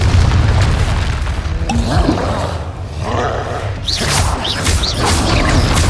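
A fiery blast spell goes off in a Harry Potter video game, a loud roaring boom filling the clip with dense rumbling and crackle, close and sustained.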